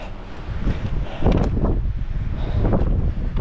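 Gusty wind blows at sea off the calanques near Marseille, rumbling against the microphone in loud, uneven bursts that swell and fade over a steady background rush.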